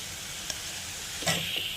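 Beetroot with curry leaves, coriander and tamarind sautéing in a pan, a soft steady sizzle with a couple of brief spoon knocks and one louder burst of hiss, close, no voices.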